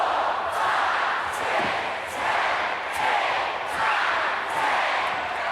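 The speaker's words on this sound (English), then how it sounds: "The crowd's counting with him." A wrestling arena crowd at SummerSlam 1989 chants in a steady rhythmic count, loud and sustained, with regular surges roughly every three-quarters of a second as fans count along to punches in the corner.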